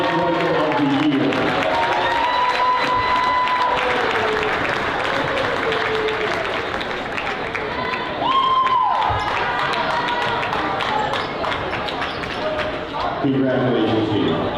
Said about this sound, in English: Ladies and gentlemen, a big round of applause for our athletic director, Jamie Zellino